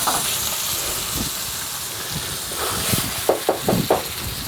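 Shallots going back into a hot pan with a little oil, giving a steady sizzling hiss throughout, with a few short louder pops and crackles near the end and no talk.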